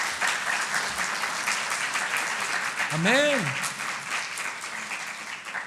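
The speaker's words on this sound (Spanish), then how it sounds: "¿No le da una ofrenda de palmas al Señor por eso?" A church congregation applauds in a sustained, moderately distant wash of clapping, with a single voice calling out briefly partway through.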